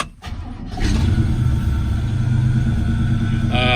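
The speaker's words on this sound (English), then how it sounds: "apparently the engine starting up didn't come out on the video, so we'll start it up now" Cold 1972 Chevrolet Cheyenne truck engine cranking briefly, then catching and settling into a loud, steady, rumbling idle that carries on close up.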